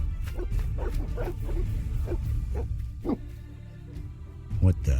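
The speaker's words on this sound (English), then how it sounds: "They're evil dogs." Several dogs bark and yip in the Dark Souls 3 video game, a quick run of sharp, fairly close barks with a whimper, mixed with game voices.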